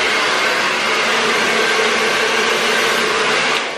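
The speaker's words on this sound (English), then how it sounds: "when you have the hair dryer, if you're doing it yourself" A handheld hair dryer blows steadily and loudly at close range for several seconds during at-home hair care, a continuous broadband whoosh with no talk, cutting off at the end.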